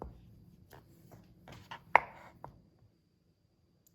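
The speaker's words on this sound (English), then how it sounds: "So I cut the butter here, and then I'm going to cut this piece in 4" A knife cuts a stick of butter into four pieces on a board, making a series of soft, close taps with one sharper knock midway and another at the very end, with quiet between them.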